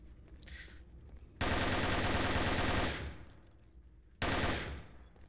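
Video game gunfire in a competitive tournament match: two dense, loud bursts of rapid shots, the first lasting about a second and a half and the second shorter, with quieter game ambience between them.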